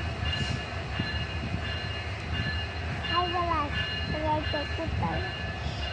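A train rolls past nearby with a loud rumble of wheels and carriages, and wavering metallic squeals rise from the wheels in the second half while people talk underneath.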